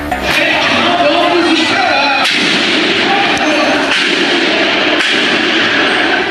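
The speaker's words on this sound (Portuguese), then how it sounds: "Policiais trocaram tiros com bandidos que fugiam em 3 carros." Gunfire breaks out as police exchange shots with criminals fleeing in three cars, right beside a street carnival bloco. Several heavy bangs cut through a constant loud crowd din, with voices mixed in.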